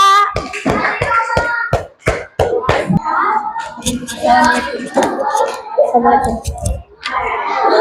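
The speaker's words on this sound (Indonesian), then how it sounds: "Tepuk tangan untuk kelompok 3." Classroom students clap for a presenting group, a short burst of sharp, uneven claps close by, followed by children talking and rustling.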